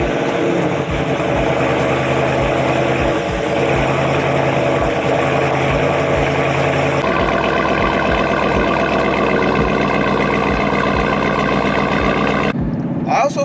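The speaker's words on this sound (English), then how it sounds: "let's take the car for a quick drive" Widebody-kitted Dodge Charger with a loud exhaust driving, a steady low engine rumble with rhythmic pulses that shifts in tone midway, then cuts off abruptly near the end.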